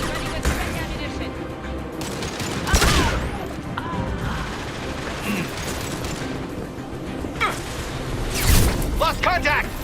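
Rapid bursts of gunfire in the video game Mass Effect 2, crackling volleys and heavy impacts during a firefight, with shouted voices over the shooting.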